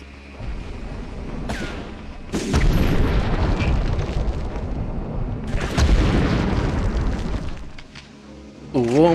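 Grenade explosions in the PS1 game Medal of Honor, two big booming blasts a few seconds apart with rumbling debris tails over low game ambience, ending in a brief warbling effect.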